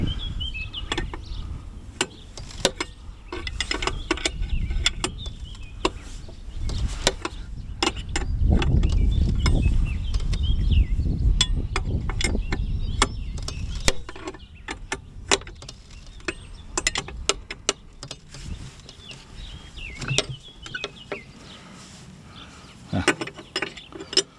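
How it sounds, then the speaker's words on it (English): Irregular metallic clicks and ratcheting taps from a wrench tightening a nut to pull a gearbox back, with a low rumbling scrape in the middle; close and uneven. "Tighten this nut up and that should pull the gearbox back."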